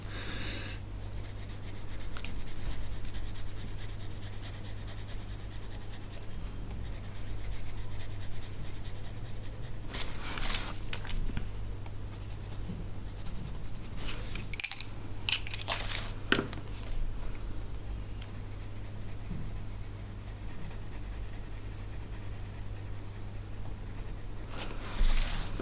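Colored pencil shades across paper in a colouring book, a quiet steady scratchy rubbing of soft strokes continuing for some time, with a few louder bursts of texture and a constant low background hum.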